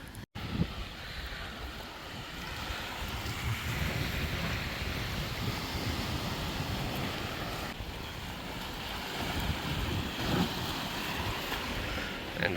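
Waves wash onto a small private beach cove on an island, with a broad roar and gusting wind buffeting the microphone throughout.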